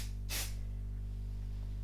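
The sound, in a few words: repositionable stencil spray being sprayed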